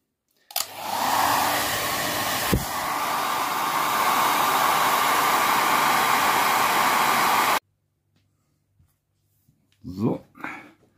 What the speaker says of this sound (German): Mit dem Föhn.